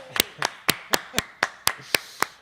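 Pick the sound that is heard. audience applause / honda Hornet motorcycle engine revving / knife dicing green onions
audience applause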